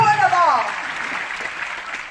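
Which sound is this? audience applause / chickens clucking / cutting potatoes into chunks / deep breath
audience applause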